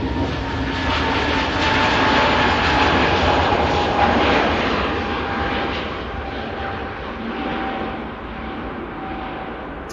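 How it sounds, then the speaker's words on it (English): A Scandinavian airliner bound for Stockholm takes off at Manchester Airport, its jet engines giving a loud, steady roar that fills the whole stretch and fades slightly toward the end. "Scandinavian just rotated, heading out to Stockholm."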